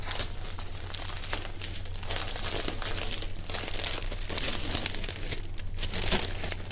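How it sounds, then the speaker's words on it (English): Sellotape being wound around the tying point of a hand-tied flower bouquet, a continuous close crinkling and crackling of tape and wrapping with no pauses. "literally just sellotape that around the tying point"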